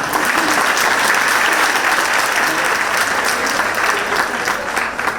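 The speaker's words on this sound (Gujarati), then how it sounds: "કેમ તાળી ન પડી?" Sustained applause from a large audience at a speech, dense and steady clapping that fills the whole stretch without letting up.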